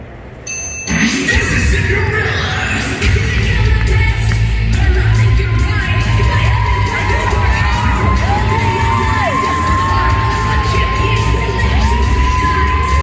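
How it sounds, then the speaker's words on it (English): A large crowd at a cheerleading competition cheers and yells loudly and continuously, with children shouting, whoops and a thumping beat beneath the roar, plus repeated falling and rising whistle-like calls. "Let's listen to this crowd."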